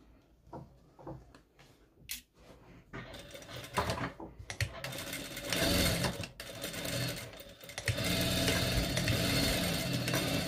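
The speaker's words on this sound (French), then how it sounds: "on va faire une couture ici" A sewing machine sews a seam on a long skirt with an elastic back, starting with short stop-start bursts that build into a loud, continuous rapid stitching run close by.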